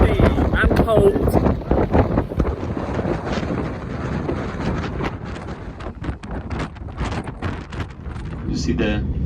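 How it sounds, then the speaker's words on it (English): Strong, cold wind buffets the microphone outdoors in a national park on Tenerife, with loud gusty rumble throughout and people talking underneath. "Wow, it is so windy and cold."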